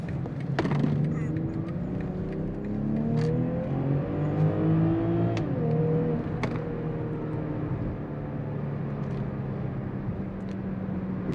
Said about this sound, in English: Throw us into sport mode. Starts the downshift for you.